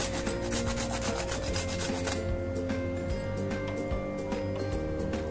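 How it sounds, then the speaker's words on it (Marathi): Nutmeg grated by hand for a semolina-coconut karanji filling, heard as continuous close rasping and scraping strokes over a steady background hum. "तसेच आपल्याला जायफळ देखील इथे थोडंसं किसून घालायचं आहे."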